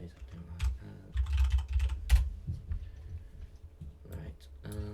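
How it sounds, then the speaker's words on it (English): Typing on a computer keyboard comes in short clattering bursts of keystrokes, close and moderately loud, with pauses between runs and faint background sounds. "I need to quickly type those up"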